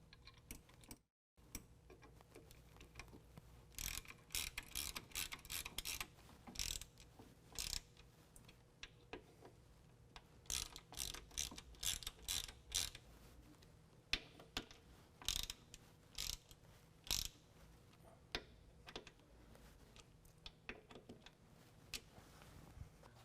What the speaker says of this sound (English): And we're going to snug those down with a